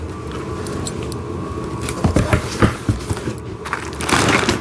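Packaging crinkled and torn open around wooden train set pieces, irregular rustling and crackling bursts that grow busier toward the end, close by.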